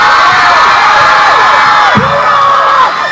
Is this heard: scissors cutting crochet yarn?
no